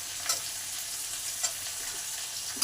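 Potato pieces fry in hot oil with pointed gourd, carrot and tempering spices, a steady close sizzle punctuated by a few sharp stirring clicks.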